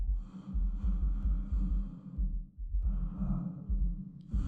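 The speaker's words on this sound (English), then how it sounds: "I don't like that I can hear him breathing." Heavy, ragged breathing from a character in the indie horror game Routine, with slow sighing inhales and exhales repeating close up, rising and falling in a steady rhythm.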